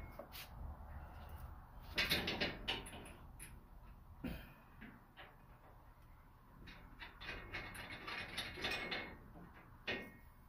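A ratchet tightens bolts on an aftermarket door for a Polaris RZR, giving bursts of quick clicking and metallic rattles spread across the stretch, close but fairly quiet.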